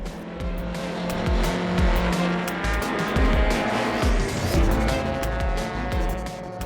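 Classic racing cars lap a circuit during the Tour Auto 2013, with loud roaring engines, screeching tyres and cars passing close by in quick succession.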